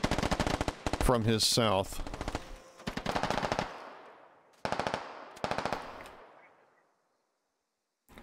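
Gunfire in the SquadOps video game, loud bursts of automatic fire in several separate strings, each trailing into a long echoing decay, with a brief spoken voice amid the shots.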